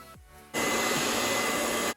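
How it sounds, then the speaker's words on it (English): A brief click, then a hair dryer roars on, blowing loudly and steadily for over a second before cutting off. "sit her under the dryer"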